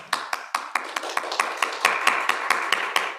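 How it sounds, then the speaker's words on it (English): A small audience claps steadily, a brisk run of sharp, fairly loud hand claps in even rhythm, close by and with no other sound over them. "we're few in number, but we're loud when we clap"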